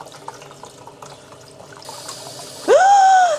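Running tap water rinses salted bullet jellyfish in a sink, with soft handling noises first, then the flow splashes strongly and steadily near the end.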